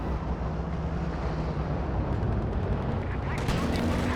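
Tank gunfire in Company of Heroes 2 during a 1v1 match with a Panzer and KV-1 tanks: a continuous rumbling battle bed with repeated heavy shots and bursts, loud and dense throughout, a sharper cluster of impacts near the end.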